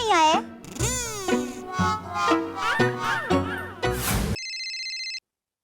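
A mobile phone rings with a melodic tune of rising and falling notes, fairly close and clear, ending in a short electronic tone before it cuts to silence.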